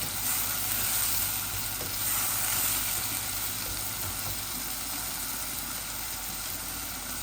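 Dried fish (shutki) frying with onions in a pan, a continuous hiss and crackle of sizzling oil, steady and close, with a low background hum and no talk.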